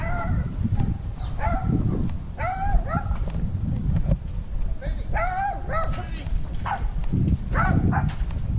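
Several small chihuahuas yap and bark in quick overlapping bursts, near and fairly loud, out on a walk with people talking over them.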